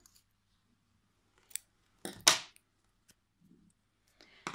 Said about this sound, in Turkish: bir tane de zincirimi çekip ipimi buradan kesiyorum